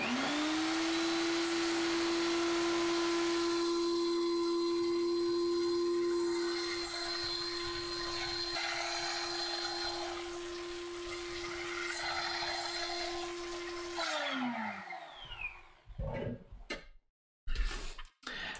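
A small hobby mini saw cuts little pieces of wood for a 1/84 scale HMS Victory model bowsprit, a loud steady whine running for about fifteen seconds before spinning down, followed by a few short knocks and clatters.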